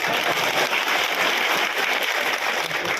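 An audience at a BJP candidate's election office gathering claps steadily, a dense, loud wash of applause that holds evenly the whole time.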